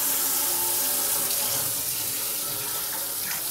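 Hot tap water runs hard over a roaster oven insert in a sink, a loud, steady rushing spray for a few seconds with no voices.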